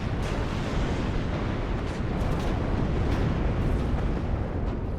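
Conqueror tanks firing in the wartime strategy game WARNO, heard as a dense, continuous rumble of heavy cannon blasts and explosions merging into a loud battlefield roar with no clear gaps.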